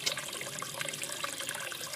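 Water running steadily through a siphon hose drawing from a tank through a bulkhead fitting, a continuous close trickling and gurgling rush with no breaks and no talking.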